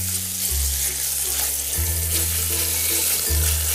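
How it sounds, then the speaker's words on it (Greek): Meat searing over high heat in a cooking pot, browning on both sides; a steady, close sizzle and crackle fills the clip with no voices. "Και σοτάρω σε δυνατή φωτιά, έτσι ώστε να πάρουν χρώμα και από τις δύο πλευρές"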